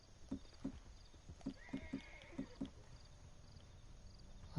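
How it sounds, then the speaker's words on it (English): Horse hooves clip-clopping in Red Dead Redemption 2 Online, a steady series of soft, evenly spaced hoof beats at moderate distance over a quiet ambient background. "put this on the back of my horse"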